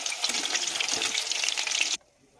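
Chicken liver and gizzard pieces fry in hot oil in a wok, a dense, bright sizzle that holds steady for about two seconds and then cuts off abruptly to near quiet.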